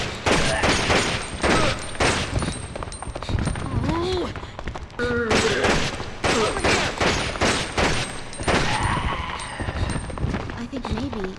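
Weapon test gunfire in Resident Evil Outbreak File 2 cracks out in rapid, sharp shots, broken by short pauses, mixed with in-game groans and cries, while someone talks over parts of it.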